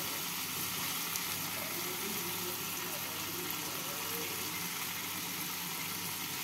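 Fried rice with pointed gourd and spices stirred in a pan, a soft continuous sizzle with faint scraping under steady broadband hiss, no voices.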